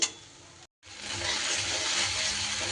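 Mustard spice paste sizzles and fries in a pan while a spoon stirs it. A short clack at the start and a brief gap are followed by a steady, close hiss of frying.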